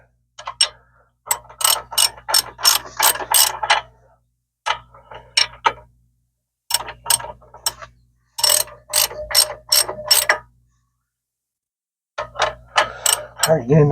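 A ratchet wrench snugs a brake caliper bolt on a 2003 Dodge Ram during a front brake job, sounding as close, crisp clicking bursts separated by short silent pauses.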